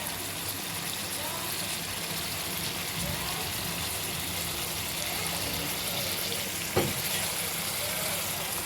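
Pre-boiled jackfruit seeds sizzle in an oiled pan, a continuous crackling hiss with small pops, close and fairly loud throughout, with a sharper clatter near the end.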